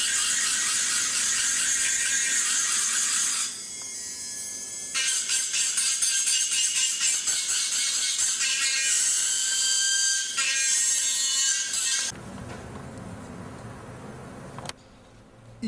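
Hand scraping of a denture's inner fitting surface, borders and posterior limit during relining, giving a steady, bright, gritty rasp that runs almost continuously, with a brief pause and then a duller, rougher stretch near the end.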